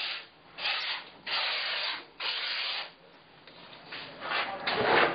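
Bursts of steady hissing spray as closed-cell foam insulation is applied, on and off in several passes, with short quieter gaps between each burst.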